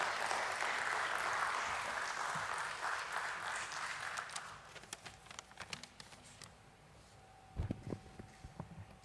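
Applause from an audience at a stock exchange listing ceremony for a microfinance company, a steady dense clatter of clapping for several seconds that thins out and fades, followed by a few isolated louder knocks near the end.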